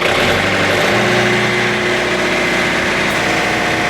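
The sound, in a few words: engine revving as throttle is increased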